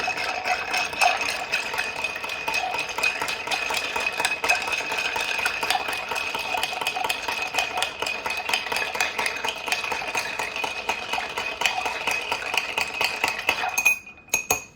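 Ice being stirred with a bar spoon in a cocktail mixing glass while making an Old-Fashioned: a steady, continuous clinking and rattling close by, running alone throughout and stopping abruptly near the end.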